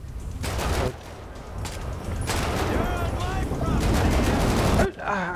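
Gunshots in Grand Theft Auto V play as sustained loud rapid fire through most of the stretch, cutting out abruptly near the end, with a voice talking over it.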